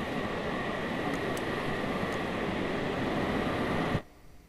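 A flying machine in the Scrap Mechanic game lifts off vertically with a steady, loud engine roar and rushing hiss that holds constant before cutting off abruptly near the end.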